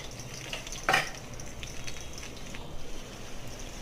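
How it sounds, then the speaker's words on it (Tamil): Chopped raw mango frying in oil in a kadai for mango pickle, a soft steady sizzle with a sharp clatter of a spoon stirring early on, faint and close throughout. "கடாயில் எண்ணெய் விட்டு நறுக்கின மாங்காவை போட்டு"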